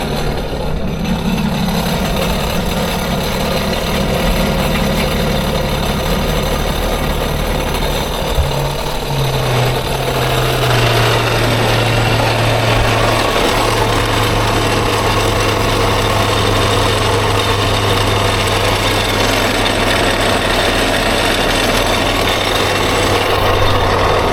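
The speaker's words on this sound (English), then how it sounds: "put the key on, we'll start it up" A jet ski engine starts and settles into a continuous idle, a loud, steady mechanical drone that runs unbroken and close for the whole stretch, with no voices.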